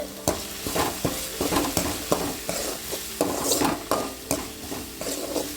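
Salted tomatoes sautéed for bitter gourd thokku, a steady low sizzle broken by regular clanking strokes of a spoon stirring and scraping against the pan.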